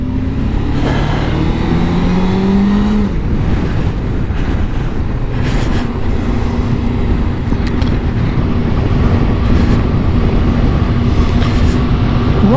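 A Suzuki GSX600F motorcycle ridden on the road, its engine note rising and shifting through gears in a steady loud drone with wind rush, heard from on the bike throughout.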